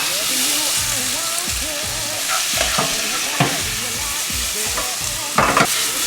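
Baby heirloom tomatoes sautéing on high heat in a pan, a steady close sizzle with scraping stirs and a few utensil clicks, and faint talk in the background.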